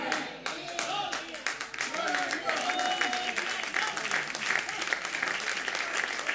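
Loud, sustained applause from a large crowd, with dense clapping and some cheering voices mixed in throughout.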